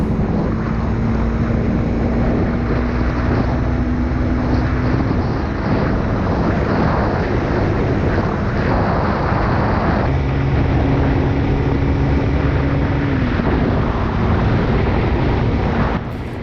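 A Honda CRF300L motorcycle at speed on a road, its engine droning steadily under loud, constant wind rush. The engine pitch holds, shifts at about five and ten seconds, then holds again.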